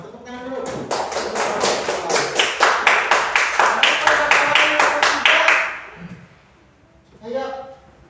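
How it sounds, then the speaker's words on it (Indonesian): A group in a classroom discussion session claps hands together in a steady, rapid burst lasting about five seconds, fairly close, then fades out before a brief voice speaks. "Nah, tepuk tangan dulu."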